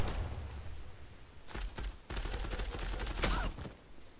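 Gunfire during a Counter-Strike style esports match, with several sharp bursts and single shots clustered over a few seconds amid a constant game noise bed, no voices.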